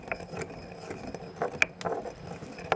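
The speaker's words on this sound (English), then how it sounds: "We grind the white pepper and the aromatic herbs." White pepper and aromatic herbs are ground by hand for an ancient moretum, giving a soft, continuous gritty grinding with small clicks and scrapes, fairly close and quiet, without speech.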